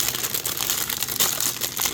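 A plastic bag holding model kit runners for a 1/144 Gundam kit being pulled open, close crinkling and rustling in quick irregular bursts.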